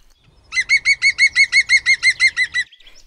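A songbird sings a quick run of about a dozen bright, evenly spaced chirping notes, close and clear against near silence, then falls quiet.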